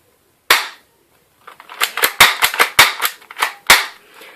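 An airsoft replica pistol fires one sharp shot, then after a pause a rapid uneven string of about ten close, loud snapping shots.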